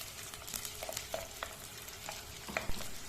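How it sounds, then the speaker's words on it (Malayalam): Chopped shallots frying in oil in a pan for a Kerala mackerel chili curry, a continuous close sizzle broken by scraping, clinking stirs of a spoon against the pan; no talking. "ഇതിലേക്ക് അരിഞ്ഞു വെച്ചിരിക്കുന്ന ചെറിയ ഉള്ളി കൂടി ചേർത്ത് ഇളക്കാം."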